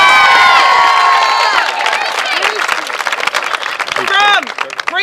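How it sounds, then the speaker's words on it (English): Crowd at an all-star tournament awards ceremony clapping and cheering steadily, with shouts and high children's voices rising over the applause, strongest near the end. "So clap for everybody, please."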